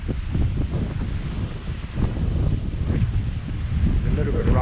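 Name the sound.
sea breeze while sailing under the jib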